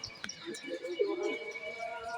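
Pigeons kept in a cage give soft, low cooing calls, with a few brief chirps over a busy background and a person talking nearby.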